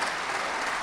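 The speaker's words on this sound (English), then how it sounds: "How about a round of applause?" Brief burst of audience applause at a welcome event for astronaut Ron Garan at the Hudson River Museum in Yonkers, a dense, even wash of clapping with no talk.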